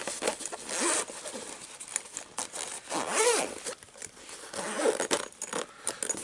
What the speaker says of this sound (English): Let's go ahead and zip this guy up.